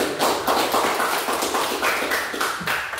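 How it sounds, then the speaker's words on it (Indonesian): Classroom applause for a student group: a steady wash of many hands clapping together, fairly close and loud, sustained throughout with no talk over it. "Beri aplaus dulu dong untuk kelompok 2 ya"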